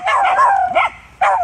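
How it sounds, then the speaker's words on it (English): Dogs out deer stalking in Scotland let off a few sharp, close yips and barks in quick bursts, with a short gap before another yelp. "why are they all barking?"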